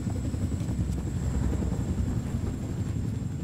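A helicopter in the video game Wolfenstein: The New Order, a steady low rotor drone with a constant high whine, held at an even level throughout with no break.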